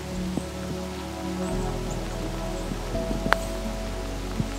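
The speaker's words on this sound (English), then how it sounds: "Rain's starting to get a little heavy." Rain falls steadily on a golf course at TPC Myrtle Beach, a soft continuous patter with a low background hum and a few brief sharper knocks.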